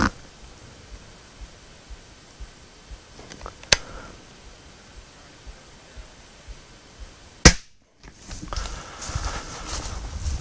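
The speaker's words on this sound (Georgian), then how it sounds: "ბანკოს შეკრას ვესვრი და ნახოთ რას იზამს." A Hatsan Supertact air rifle fires at a can outdoors. Two sharp, close cracks stand out against faint ticking background noise, and a scuffle of movement follows the second shot.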